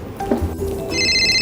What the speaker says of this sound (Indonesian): Ada video call nih dari Kak Ingrid.